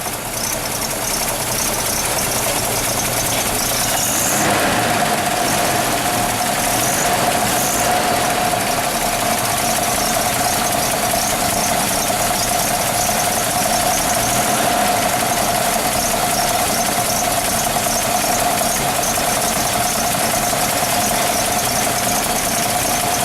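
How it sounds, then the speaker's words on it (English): A 1974 Toyota Land Cruiser FJ-40 engine idles loudly and close by, a steady rumbling drone with a high whine running through it and a brief rise near the start. "Starting up our 1974 Toyota Land Cruiser. Starts right up every time."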